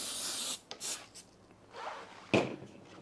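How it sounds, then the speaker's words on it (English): A couple of short hissing bursts from an aerosol can of silicone spray onto a Minn Kota Ulterra trolling motor, close by, followed by some rubbing and a knock in a quiet room. "We're just going to spray a bit of silicone spray on there."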